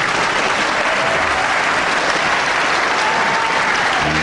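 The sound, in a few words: applause for good sportsmanship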